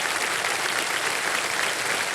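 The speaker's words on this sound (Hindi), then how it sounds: "इनके लिए जोरदार तालियां बजाएं" A studio audience on a televised quiz show gives loud applause, a thick, unbroken roar of clapping hands at constant volume from start to finish.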